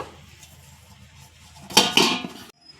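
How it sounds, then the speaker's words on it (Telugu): A lid set down over a bowl of chapati dough gives a short pair of bright clattering knocks, close and fairly loud, after a quiet stretch of faint room noise. "ఇట్లా ఉంటే దీని మీద మూత వేసుకుందామండి"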